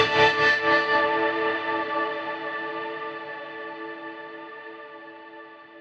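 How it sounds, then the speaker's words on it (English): Guitar run through a BOSS GT-1000CORE, a pitch-shifted chord swelling into a droning sitar-like tone with shimmering harmonics, ringing out alone and slowly decaying under a long reverb tail. "This starts off with a pitch shifter, moving into a sitar sim."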